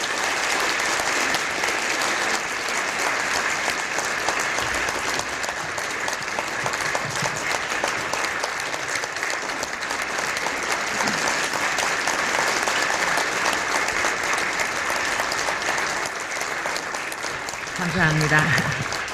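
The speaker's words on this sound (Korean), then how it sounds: "큰 박수로 맞아주시면 감사하겠습니다" Steady applause from a large audience fills the hall as a speaker is welcomed to the podium at a public-broadcasting policy event, dense and sustained throughout, swelling slightly near the end.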